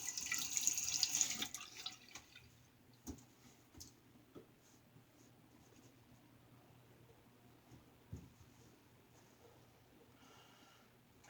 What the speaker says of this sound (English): we will get the razor rinsed off here and cleaned up